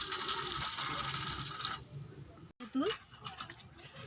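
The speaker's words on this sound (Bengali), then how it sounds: "তেঁতুলগুলোকে ভালো করে পানির সঙ্গে গুলিয়ে নেব" Water sloshes and swishes as tamarind is mixed into it by hand for puchka water, with a brief clink and a gap of near silence midway.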